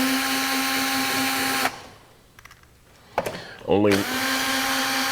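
A power driver backs T25 cover screws out of a DeWalt 788 scroll saw, giving a steady close motor whine for under two seconds before it cuts off, followed by near silence and a brief spoken word.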